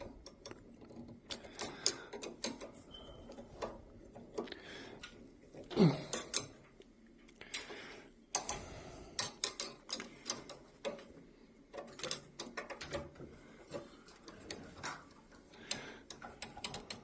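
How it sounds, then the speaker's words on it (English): Screws on a cap driver are retightened with a screwdriver, giving quiet, irregular ratchety clicks and ticks of metal on metal, close up, with no talk. "All we need to do is then retighten the screws."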